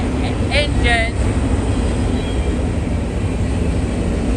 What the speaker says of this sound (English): These are the diesel engines.